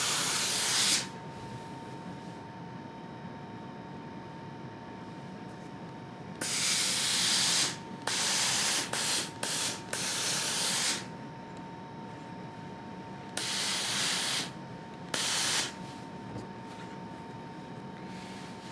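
A steam iron presses a quilt seam, releasing repeated bursts of loud hissing steam, some long and some short in quick pulses, separated by quieter pauses.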